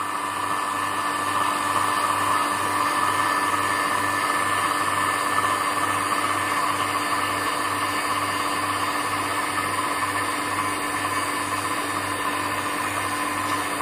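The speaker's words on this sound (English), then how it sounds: "I think the pump is now sucking the moisture out of the candies" A vacuum pump draws air and moisture from a sealed tank holding candies, a steady close mechanical whine with a constant low hum that runs unbroken and alone throughout.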